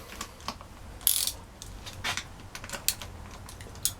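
A ratchet clicks in short bursts while loosening 10mm bolts on the rocker cover of a Yamaha XJ400Z motorcycle, with crisp metallic ticks and small knocks spaced irregularly, close and fairly quiet.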